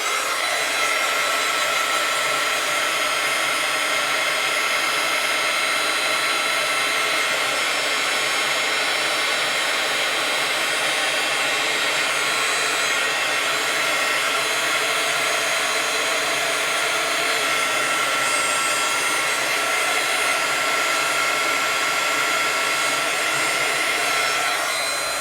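Hair dryer blowing steadily on a freshly made stencil art piece, a loud continuous whooshing drone with no pauses or talking throughout.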